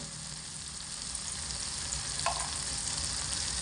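Ground turmeric, cumin, red chilli and coriander powders fry in hot oil in a pan for a vegetarian green-pea ghugni, a steady close sizzle with stirring and no voice.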